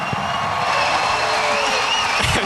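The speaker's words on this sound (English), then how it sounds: "He riles the crowd up and the fan base here at the Stan Sheriff Center. And you heard them there." Volleyball fans cheering inside the Stan Sheriff Center during a Big West championship match against Long Beach State, a steady dense roar of crowd noise with a louder swell near the end.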